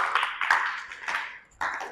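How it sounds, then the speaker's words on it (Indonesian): A class in a physical fitness lesson claps for a group of students: a short, uneven patter of hands with a few sharper claps standing out, a brief lull, then a renewed burst. "Oke, tepuk tangan buat kelompok ini."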